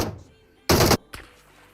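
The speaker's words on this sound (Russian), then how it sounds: "Да, все-таки Феникс выстрелом в голову у нас убивает пловца." Gunfire in the mobile battle game PUBG Mobile: a loud, dense burst of rapid automatic shots lasting about a quarter second, followed by a single sharper report.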